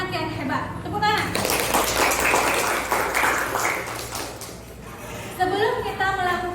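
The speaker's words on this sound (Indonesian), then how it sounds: "Tepuk tangan." A classroom of primary school children claps together during a lesson, a burst of brisk clapping in the middle flanked by a teacher's and kids' voices before and after.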